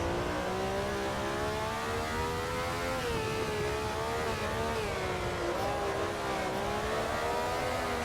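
A vintage race car engine in the racing game Assetto Corsa revving high through third gear, a loud, continuous, strained howl rising and wavering in pitch as the car accelerates, heard alone without talk.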